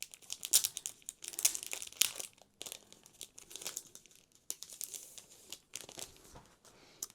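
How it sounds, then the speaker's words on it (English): Pre-cut washi tape strips are pulled out of a crinkly plastic packet, giving repeated close, crisp rustles and crackles in short bursts with brief pauses between them. "I'll just take them out of the packet so you can see."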